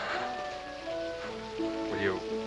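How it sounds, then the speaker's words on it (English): Steady rain falls and patters on surfaces in a busy street setting, a broad constant hiss running under voices that talk throughout. "But in this rain."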